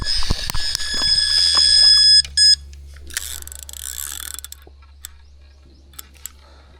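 A fishing reel clicks in a rapid ratcheting burst as a carp pulls line out, then falls quiet to a low hum with a few scattered clicks.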